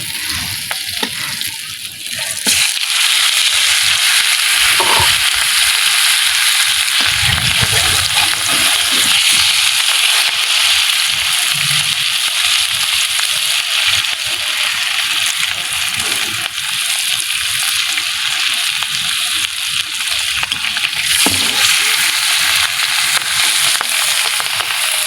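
Hilsa fish frying for a village-style Bengali bharta: a steady, loud sizzle of oil across the whole stretch, with occasional stirring scrapes in the pan and no talking.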